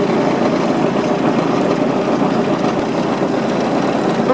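Yanmar SC2450 compact tractor with mower deck and backhoe fitted, its diesel engine idling nearby as a steady, loud low rumble with no voices.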